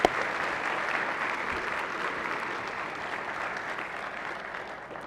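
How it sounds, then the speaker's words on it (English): Members in a Senate chamber give a round of applause, a steady, even wash of many hands clapping at moderate distance that tapers slightly toward the end. "If you would please give them a round of applause and welcome to your Senate."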